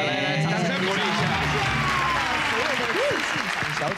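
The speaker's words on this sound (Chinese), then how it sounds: "来，掌声鼓励一下" A studio audience on a Taiwanese variety show claps steadily as a group, filling the moment with dense applause while a few voices talk over it and rise in pitch.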